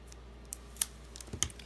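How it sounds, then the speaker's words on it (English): Scissors snip through a piece of card for a shaker card, a few sharp, faint clicks spaced unevenly in a quiet room. "I have another piece here that I can cut in half"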